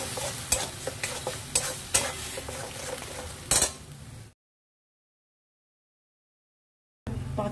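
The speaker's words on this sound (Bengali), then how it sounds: "এবার ভালো করে নাড়াচাড়া করে শুকনো করে দেব।" Banana stem paste with coconut, peanuts and green chili being stirred in a pan to dry it, a spatula scraping and clinking rhythmically over a soft sizzle, cut off abruptly by a silent gap before resuming briefly.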